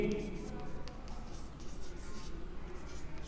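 Pen or marker scratching on a board or paper during a grammar lesson, soft rhythmic strokes at low level with faint, continuous background noise.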